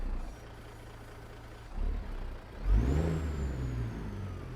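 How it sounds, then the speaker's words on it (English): Dodge CNT 950 truck with a 650-horsepower DD60 diesel engine cranks and fires up, swelling into a loud rising surge with a climbing turbo whine, then settles into a steady, close idle rumble. "so let's get that thing fired up"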